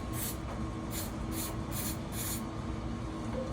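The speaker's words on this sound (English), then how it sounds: "What we're using is what they call electrical contact cleaner. Spray on there." Electrical contact cleaner sprayed onto a lawn mower in short aerosol hisses, about five bursts in quick succession and fairly close.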